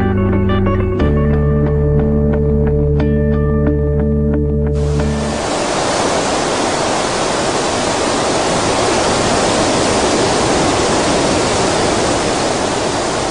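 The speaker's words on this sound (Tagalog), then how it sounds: "Ang sigaw ng hangin" Howling wind of an approaching storm, a dense, loud roaring rush that swells in abruptly after a few seconds of tonal music and then holds steady.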